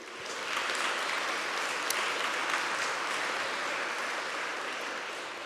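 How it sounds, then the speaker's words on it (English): Conference audience applause after the speakers at an innovation conference, a dense, even clapping that swells quickly and holds steady for several seconds, then eases slightly near the end. "Maybe we can give them another round of applause."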